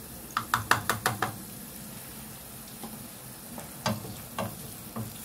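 Spices going into a pan of frying food for beignets, with a quick burst of five or six sharp taps and clinks, then a few scattered knocks over a low steady sizzle.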